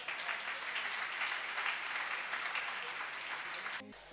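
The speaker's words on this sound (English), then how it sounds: "Give Jesus a clap offering" A church congregation claps together, a sustained, even roar of many hands at a steady level that runs for several seconds and then cuts off abruptly.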